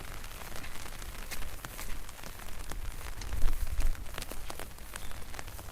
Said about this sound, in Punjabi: ਤੇ ਮੀਂਹ ਹੁਣ ਫੇਰ ਲੱਗਿਆ ਹੋਇਆ ਦੁਬਾਰਾ ਫੇਰ ਸਟਾਰਟ ਹੋਇਆ ਹੋਇਆ ਮੀਂਹ